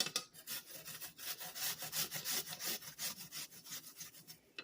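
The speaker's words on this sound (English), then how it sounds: "we're just grinding apples" Apples grated by hand on a large-holed Swiss rösti grater, a close, rhythmic scraping rasp in quick repeated strokes with short pauses between them.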